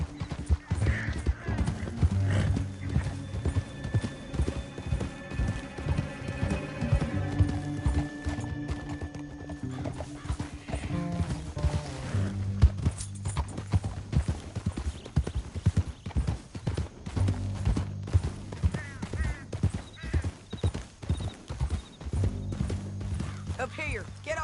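Horses galloping in Red Dead Redemption 2, rapid steady clip-clop of hooves close up with occasional whinnies, music underneath and bursts of character speech.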